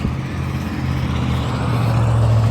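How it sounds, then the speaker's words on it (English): Road traffic rolls past nearby in a continuous loud low rumble that rises toward the end as a heavier vehicle approaches, with no talking. "Man, these cars are noisy."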